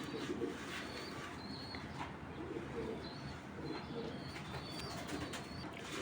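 Racing pigeons, among them a young 2022 club-registered hen, coo softly in a loft amid steady bird chatter, with a few higher chirps and light background noise throughout.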